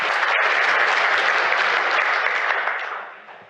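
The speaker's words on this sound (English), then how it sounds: "can we please make her feel welcome and give her a round of applause?" A conference audience at a design and technology keynote gives a sustained, dense round of applause that stays loud and fades out near the end, with no talk over it.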